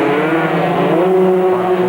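Cub Prix racing motorcycles at a 1998 race at Sri Manjung give off a loud, continuous high-revving engine drone with a slowly rising pitch, steady and close.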